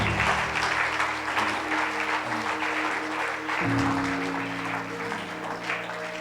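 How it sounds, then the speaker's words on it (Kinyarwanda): A church congregation clapping their hands for Jesus, a dense steady patter of many hands that continues over a sustained musical backing, with no voices rising above it. "Clap your hands for Jesus."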